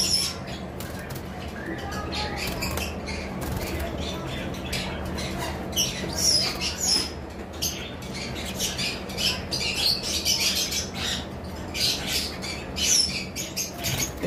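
Pet conures calling from aviary cages, a pair of green male with white female and a blue male with white female among them: sharp repeated squawks and chirps over a steady hum of background noise, with no talk.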